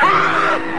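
A person imitates a kuntilanak ghost's scream with a loud, sustained, high wailing shriek lasting under a second, close and alone.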